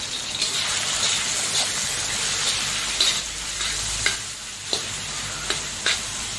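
Marinated chicken gizzards sizzle steadily in hot oil, with a dense crackling hiss and several sharp stirring knocks near the pan toward the end.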